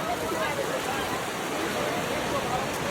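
Heavy rain falls in Itahari, a steady, dense hiss that fills the whole stretch at an even, fairly loud level with no breaks.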